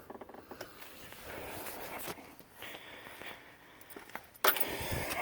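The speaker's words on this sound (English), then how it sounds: "You can set my keys down." Keys jangle briefly as they are set down during a seat replacement on a 2005–2012 Toyota Avalon, a close metallic rattle with a sharp clink near the end, heard alone.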